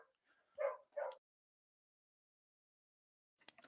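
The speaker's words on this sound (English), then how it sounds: "my dog going crazy" A pet dog gives two short, loud barks close by in a quiet indoor room, followed by silence and then faint rustling.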